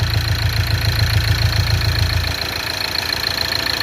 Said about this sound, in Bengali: ট্যাক ট্যাক ট্যাক ট্যাক করে ইঞ্জেক্টারে একটু সাউন্ড আছে